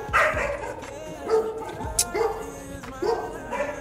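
A dog barks and yips repeatedly at fairly close range, some short sharp barks mixed with whiny cries, with a person talking in the background.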